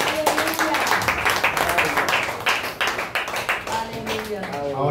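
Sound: audience applause

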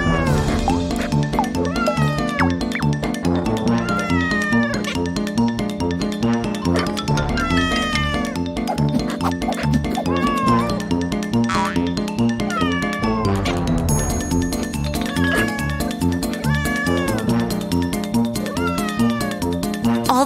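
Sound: kittens meowing

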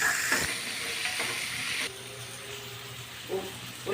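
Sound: curry leaves frying in oil

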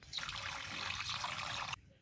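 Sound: water poured into a wok for boiling sweet potatoes

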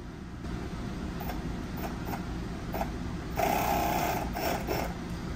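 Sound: electric motor of 3D-printed jet pump running

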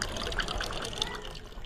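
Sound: water being filled into pots in a village

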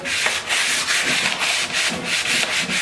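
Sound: sanding wooden garden tool handle with sandpaper

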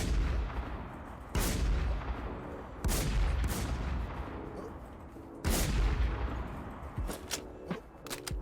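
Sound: gunfire from an M1 rifle in a video game

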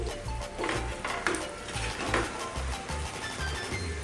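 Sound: stirring potatoes with turmeric and salt in a pan

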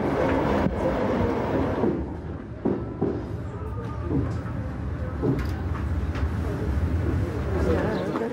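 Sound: train arriving and coming to a stop

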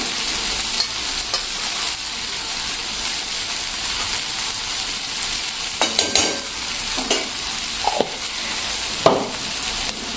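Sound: stirring and roasting crushed peanut powder in a pan

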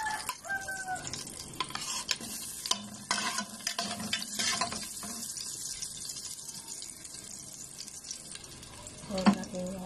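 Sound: sautéing ginger for dinengdeng

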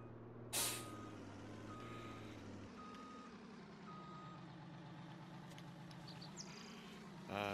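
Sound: truck air brakes in video game Farming Simulator 19

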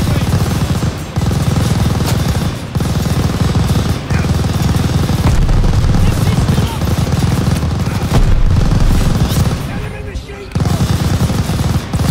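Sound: MG machine gun fire in video game Call of Duty Vanguard

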